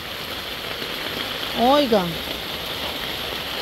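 Heavy rain pours steadily as a broad, even hiss throughout, with a voice speaking briefly over it near the middle.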